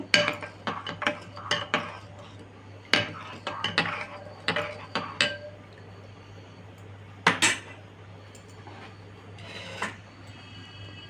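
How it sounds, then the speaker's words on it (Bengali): A spoon clinks and scrapes against a bowl as sugar is stirred into milk, in irregular bursts of light ringing taps, then a pause and a few more clinks. "চিনিটা একটু আমি দুধের সাথে মিক্সড করে নেব"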